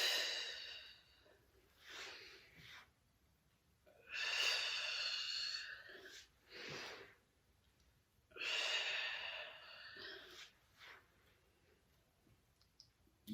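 Slow, deep breaths during a cool-down stretch, loud airy inhales and exhales arriving in broad swells every few seconds, close to the listener, with no talking in between.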